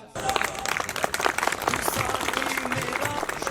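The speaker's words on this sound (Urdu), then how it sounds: "آپ کی بھرپور تالیوں میں" Audience applause at a press club event in Chakwal, Pakistan, on Defence Day, a dense burst of many hands clapping that starts abruptly and continues steadily, moderately loud and near.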